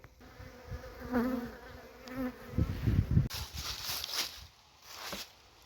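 Honeybees buzzing around an opened hive while frames are handled, a steady insect hum close by with brief rustling and knocks of hive work under it.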